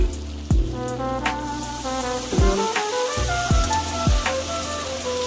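Cumin and chili powder sizzle in a pan with water added, giving a steady crackling sizzle with low bubbling and several close, resonant knocks or taps spread unevenly through it.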